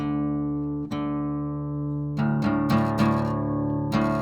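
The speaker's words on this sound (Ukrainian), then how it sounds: "щіпаємо одночасно шосту та четверту і опускаємо шосту таким чином, щоб вони стали звучати в унісон" An acoustic guitar's sixth and fourth strings are plucked together while being tuned to an octave. One ringing chord sustains and decays, then a quick run of several fresh plucks follows, clear and close with no voices.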